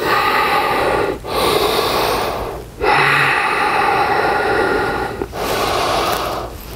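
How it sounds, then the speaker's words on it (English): During a breathing exercise in a dumbbell workout, loud, close, forceful breaths rush in and out in long sustained strokes. Three short pauses break them up, and there is no talking. "Resting breath."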